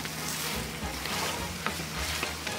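Abalone, shrimp, octopus and cuttlefish being stir-fried in a hot pan: a steady close-up sizzle with scraping and stirring sounds throughout.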